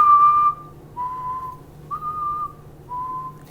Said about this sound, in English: I can also whistle that way too.